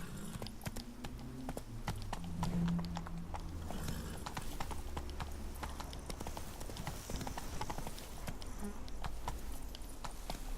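Roach, Geralt's horse in The Witcher 3: Blood and Wine, trots steadily with a continuous clip-clop of hooves, while a low rumble of ambience runs underneath and a brief voice cuts in.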